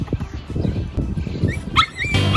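Two pet dogs bark and whimper close by in short, excited bursts, with a few higher yips and whines near the end and no talking over them.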